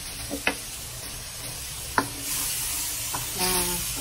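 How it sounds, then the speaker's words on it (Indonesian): Tamarind water poured into a pan of sautéed spice paste for chicken garang asem, giving a steady sizzle and hiss broken by a few sharp stirring clinks and one louder splashy burst near the end. "Ini bumbunya sudah digongso, kemudian masukkan air asam ya"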